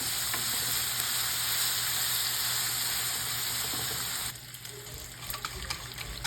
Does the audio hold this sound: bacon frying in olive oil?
yes